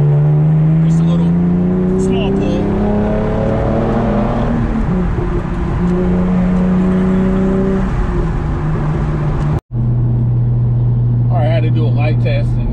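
A car accelerates to merge onto a road, its engine note rising and falling through gear changes, loud and close from inside the cabin, with a voice talking over it and a brief cut near the end.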